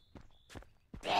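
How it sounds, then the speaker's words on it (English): Footsteps in the video game Zompiercer, a handful of soft, uneven thuds close by, followed by a louder rushing burst at the end, with no talk. "I hear footsteps."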